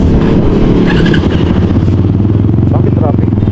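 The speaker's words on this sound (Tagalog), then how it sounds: "Traffic." Busy road traffic of cars and motorcycles rumbles loudly and close by, engines droning continuously while people talk over the noise.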